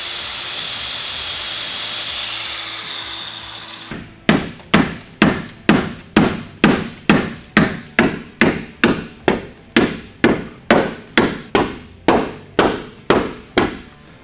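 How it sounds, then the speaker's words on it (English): Big hammer pounding the pinch weld on a 100 Series Land Cruiser to clear 34-inch tires, following a few seconds of grinder whine, then about twenty sharp, evenly spaced metallic blows, loud and close. "we'll make a couple of cuts and get the big hammer"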